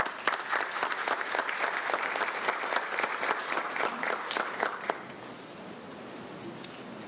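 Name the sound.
audience applause at a ceremony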